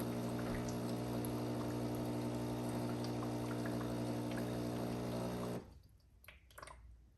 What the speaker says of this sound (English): we're just waiting through the process of rinsing out the whole water that was in our water tank with the descaling agent